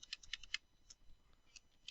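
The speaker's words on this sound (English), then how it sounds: "Let me go back and type in between" A computer keyboard gives a few quick, light keystroke clicks close by, in a quiet room with no talking.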